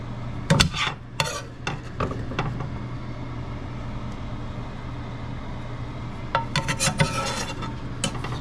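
Big spoon scraping and scooping Baker's Banquet mix out of a container: a cluster of sharp scrapes near the start and another toward the end over a steady low hum, fairly close and moderately loud.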